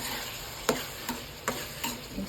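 Soya chunks cook with masala in a pan while a spoon stirs them, giving about five light, evenly spaced scraping taps over a soft, steady sizzle, with no voices.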